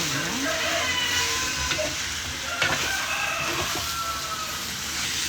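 Sail fish curry sizzles and fries in a pan while being stirred, a continuous close hiss broken by scraping stir strokes, with a rooster crowing faintly in the background.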